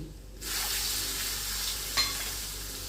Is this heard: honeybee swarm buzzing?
no